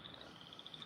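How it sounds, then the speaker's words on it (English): A frog trills in fast, evenly spaced, high-pitched pulses that repeat for under a second. The calls are faint and seem somewhat distant over a soft background hiss, with no voices. "That's a frog, buddy."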